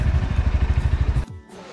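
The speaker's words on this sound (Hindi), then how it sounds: "अभी बाइक कोल्ड स्टार्ट पर डाली है," A motorcycle idles just after a cold start near Guptkashi on a mountain temple trip. Its steady, rapid, close exhaust thumps run for about a second before cutting off abruptly.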